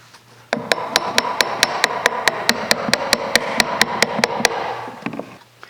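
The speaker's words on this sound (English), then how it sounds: "So I'm going to try to finesse it out with an old chisel and a lot of patience." Old chisel hammered against carpet tack strips, about twenty sharp evenly spaced metallic strikes in a fast steady rhythm, close and loud, ending in a brief scrape.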